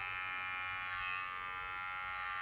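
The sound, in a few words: electric hair clippers cutting hair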